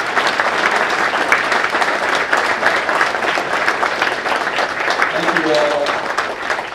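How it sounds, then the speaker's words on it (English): Sustained audience applause fills a city State of the City address, steady and dense from start to finish, with brief voices audible near the end. "And let's take an applause."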